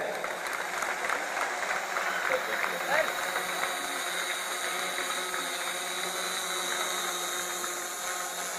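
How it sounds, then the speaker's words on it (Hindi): Audience clapping at a school annual function in Siwan, a steady, dense wash of applause from a crowd that carries on through the whole stretch at an even level, with faint background murmur. "आप तालियों में कंजूसी कर रहे हैं।"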